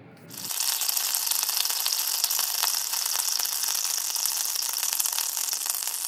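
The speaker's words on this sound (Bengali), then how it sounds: "তেলটা গরম হয়ে আসার পর এর মধ্যে আমি দিয়ে দেব 1 কাপ পরিমাণ পেঁয়াজ কুচি" Chopped onions, about a cup, hitting hot oil with a sudden loud rush that settles into a steady, close sizzling hiss.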